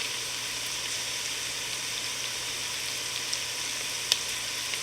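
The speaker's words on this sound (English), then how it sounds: "So I'm going to add my chopped onion. And now I'll cook this till it gets translucent." Chopped onion cooks in melted butter with a steady, even hiss of frying that holds at one level throughout, broken only by a faint tap or two.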